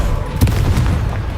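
An Expelliarmus spell cast during combat in the Hogwarts Legacy video game, a brief sharp burst with a punchy crack partway through, followed by a quick fading tail.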